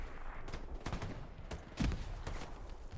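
Gunfire in the World War II shooter Hell Let Loose, a scatter of separate shots and short bursts over steady battlefield rumble, with one louder, nearer blast midway.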